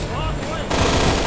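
Rapid automatic gunfire from the first-person shooter Infernal, loud and continuous bursts that grow denser partway through, with a voice speaking over the shooting.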